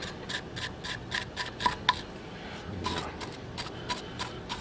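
Coarse 60 to 90 grit sandpaper is rubbed back and forth in quick rhythmic strokes over the rear brake surface of a 2008 Saturn Vue, a steady near scratching rasp heard alone.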